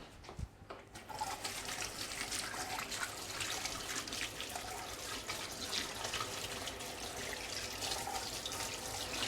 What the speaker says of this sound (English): Time to wash the hands.